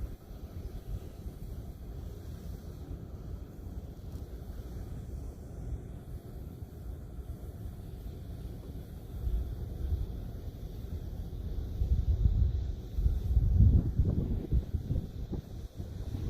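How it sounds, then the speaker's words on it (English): Wind buffets a kayak out on a lake, a constant low rumble and roar against the microphone that swells into heavier gusts near the end. "And the wind is back."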